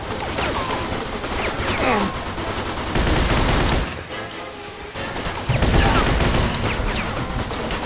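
A gunfire shootout in the video game Mafia 2 rattles on in dense, loud bursts of rapid shots and crashes, easing briefly in the middle before swelling again; no one talks.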